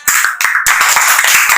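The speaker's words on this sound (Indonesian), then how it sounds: "Berikan tepuk tangan semuanya." A classroom audience at a teacher-training performance test at Universitas Negeri Manado claps for a presenting group, a loud, dense burst of hand claps that stops briefly and then carries on.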